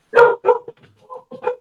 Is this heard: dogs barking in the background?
yes